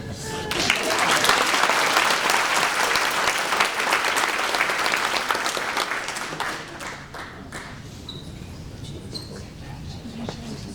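An audience at a school awards ceremony bursts into sustained applause, dense clapping filling the room before tapering off into scattered claps and murmurs.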